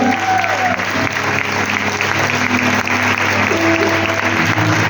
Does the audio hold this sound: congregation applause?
yes